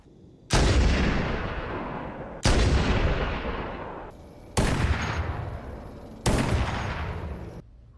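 Four heavy sniper rifle shots from Halo: Campaign Evolved, evenly spaced about two seconds apart, each a sharp loud crack with a long booming decay; no voices.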